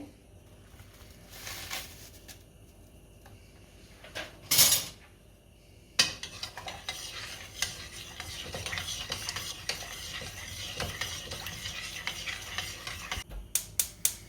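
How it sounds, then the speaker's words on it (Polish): Quiet clinking and scraping of a utensil stirring instant cucumber soup in a pot, steady and close, with a few louder knocks and no talking. "Dodajemy kostkę rosołową, od czasu do czasu mieszając."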